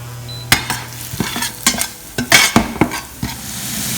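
Okra is tipped into a hot pan and stirred, and a run of loud, close scrapes and clatters of the spoon against the pan rises over a steady sizzle in irregular bursts. No one speaks.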